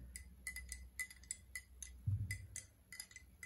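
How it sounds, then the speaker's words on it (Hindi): Soft, quick clinks of a utensil against a glass as milk is stirred into petrol, a light irregular tapping close by with a faint low rumble underneath. "तो अब हम इस मिल्क को जो है ना इसके अंदर मिक्स करते हैं थोड़ा सा"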